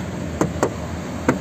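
Knuckle knocks on the metal door panel of a black 2006 Toyota Grand Touring, three hollow raps, two close together and one after a pause, up close with no voices.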